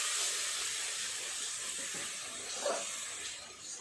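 Ground spices and a splash of water cook in a pan for a potato, pointed gourd and pumpkin dish, giving a loud, continuous steamy hiss that fades slightly toward the end.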